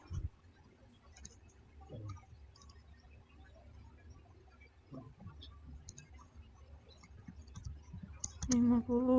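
Sparse, light clicks of typing on a computer keyboard, scattered irregular taps over a quiet background hum, with a short voiced sound at the very end.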